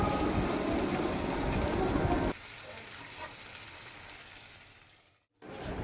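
Fish sizzle and spit as they hit hot mustard oil with a little sugar for a Bengali fish curry: a loud, steady frying hiss for about two seconds, then a softer crackle that fades, with a brief silence near the end.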